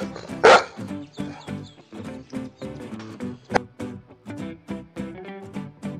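A loud dog bark bursts out early, with a second, shorter one midway, over continuous background music.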